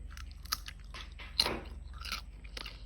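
Someone bites and chews a crispy, oily fried wonton close to the ear, with sharp crunches and softer crackling chews in an irregular rhythm and no talking.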